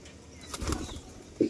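A pigeon flaps its wings in a short, soft flurry at a rooftop loft, followed by a brief, faint flutter near the end. No one speaks.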